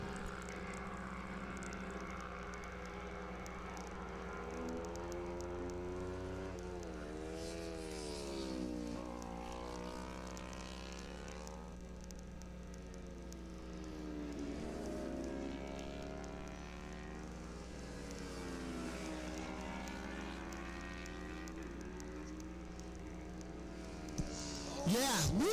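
Several 350-class racing motorcycles bunched together through turn 1 at an AFM road race, a continuous distant engine drone rising and falling as the bikes pass, with a commentator talking over it throughout.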